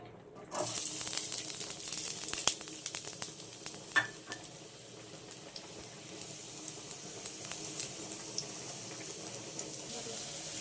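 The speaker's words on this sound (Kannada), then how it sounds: "ನೋಡಿ ಇದು ಫ್ರೈ ಆಗ್ತಿದೆ ಈರುಳ್ಳಿ" Onions frying in two spoons of hot oil for mushroom fried rice: after a quiet start, a steady close sizzle sets in, dotted with sharp pops and occasional stirring clinks.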